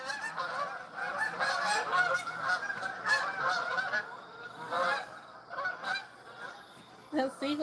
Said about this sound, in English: And then here comes some geese.